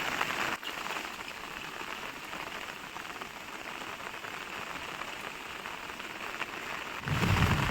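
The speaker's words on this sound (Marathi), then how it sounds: "मुसळधार पाऊस चालू आहे." Heavy monsoon rain pouring down near a cemetery road in Otur, a dense, continuous hiss of rain on surfaces, steady throughout and swelling louder at the end.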